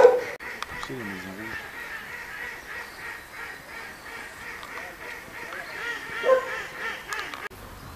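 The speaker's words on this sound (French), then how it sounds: "Concert des oies." Geese honking in a steady chorus on a countryside hiking trail at Sandouville, moderately distant, with occasional louder honks above the background.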